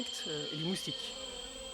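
Insects buzz and drone on a French Guiana rainforest floor, a steady high whine with a few brief low buzzing passes close by.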